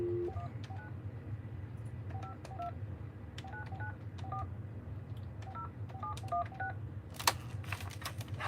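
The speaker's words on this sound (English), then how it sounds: "it's just a simple phone call" Telephone keypad tones beep out a number one press at a time, in short clear pairs with small irregular gaps, over a low steady hum. A brief clatter follows near the end.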